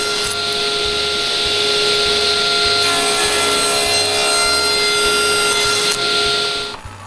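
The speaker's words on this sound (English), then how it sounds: "I cut a scrap piece of walnut square. Then cut both ends straight." A saw cuts through a scrap piece of walnut to square the ends, making loud, close, steady back-and-forth strokes in an even rhythm that continues until it stops at the end.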